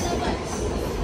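A crowded passenger train on a morning trip to Shegaon runs steadily on its rails, a continuous close rumble with a rattling wheel-and-carriage roar that never lets up through the moment, no voices standing out.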